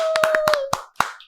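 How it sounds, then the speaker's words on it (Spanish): A small group claps briefly and loosely to welcome a podcast guest, about half a dozen close claps over a faint held tone before fading out. "Un aplauso para la chavala."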